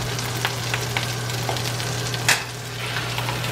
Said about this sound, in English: We're going to pan grill these.